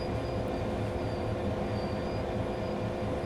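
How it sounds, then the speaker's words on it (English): Class 395 electric train motors spinning up in the Train Sim World 3 game produce a steady, dense rumble and hum with faint high whine lines, continuous and fairly loud throughout. "you can hear the 395 electric motors spinning up"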